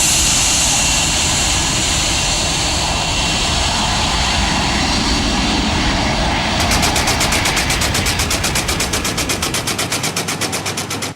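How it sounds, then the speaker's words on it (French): Jet airplane passing overhead on an airport takeoff, a loud, sustained roar that swells and then turns into a rapid, rattling pulsing as the engine noise peaks. "Après le passage de cet avion"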